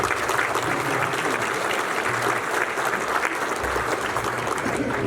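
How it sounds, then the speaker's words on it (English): An audience at a Hall of Fame awards luncheon claps steadily, a dense, sustained round of applause at moderate distance with no talk over it. "Let's give them a great round of applause."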